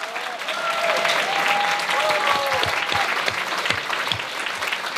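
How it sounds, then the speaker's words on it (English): An audience claps in sustained, dense applause at an MA degree awarding ceremony, with a few brief whistle-like tones on top and the clapping holding steady and close to the end. "a big applause for this group"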